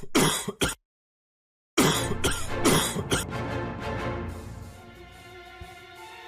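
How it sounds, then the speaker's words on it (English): Harsh, hacking coughs and throat clearing from a character coughing up blood in an animated story, in quick bursts, a short silence, then more rough coughing that fades into a low musical tone. "Why are you coughing up blood?"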